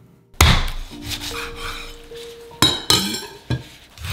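A knife splits a salmon head in half on a cutting board, giving a few sharp, close cracks and knocks spaced unevenly among quieter scraping, with no talking.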